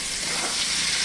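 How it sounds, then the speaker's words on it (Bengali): New potatoes frying in a pan, a brief, steady sizzle with soft crackling, close and even. "আর এখানে আলু এই যে ভাজা হচ্ছে"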